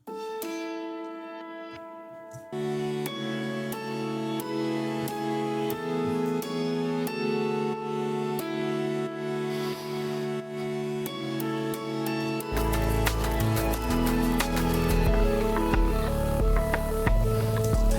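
Layered synth lead with a lower octave and an upper fifth stacked beneath and above, playing a steady melodic line of repeated notes, joined by a denser, brighter full mix for the last few seconds.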